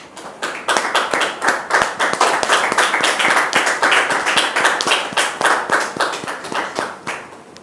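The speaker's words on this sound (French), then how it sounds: "On peut le recevoir, s'il vous plaît, sous vos applaudissements." A studio audience on a French talk show claps to welcome a guest, a loud burst of hand claps that rises quickly, holds, then tapers off near the end.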